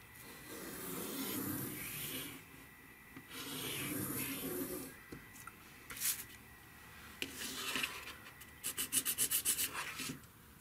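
A compass point scribes arcs while a sprinkler head for an upcycled watering can is laid out, making soft, close scratchy rubbing strokes, then a quick burst of sharp rasping ticks near the end.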